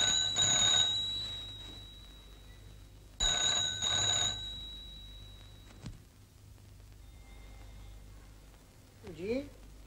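An old-style telephone bell rings in two loud bursts separated by a pause, followed by quieter room sounds and a brief voice.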